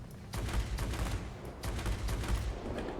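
Aircraft machine guns chattering in World of Warplanes, heard as two sustained bursts of rapid fire with a brief pause between them, loud and close over a steady engine drone.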